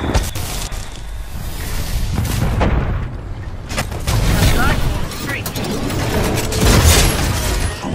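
Titan dropping from the sky in Titanfall 2, heard as heavy booming impacts and dense rumbling blasts across the whole stretch, loud and continuous with mechanical clanks and bursts layered over it.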